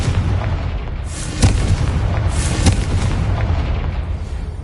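Fire-blast spell explosions from the Hogwarts Legacy video game: two deep booming bursts about a second apart, loud and close over a steady low rumble, with no talking.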